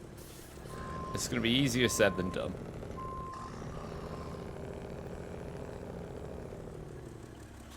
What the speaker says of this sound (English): I'm going to push it around while I reverse out